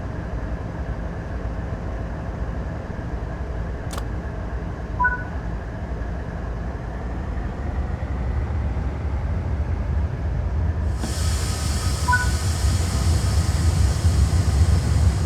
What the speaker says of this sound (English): move the train forward into the indicated siding